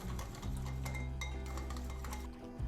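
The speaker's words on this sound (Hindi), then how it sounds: "अब इनको मिक्स कर लेंगे, अच्छी तरह से विस्क कर लेंगे" Yogurt, milk and sugar whisked together in a bowl, a steady clinking and scraping of utensil against the bowl for a few seconds, close and fairly loud with no talking.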